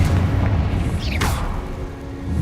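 A Confringo fire spell from Hogwarts Legacy bursts with a single sharp whooshing blast near the middle, over a steady low rumbling game background.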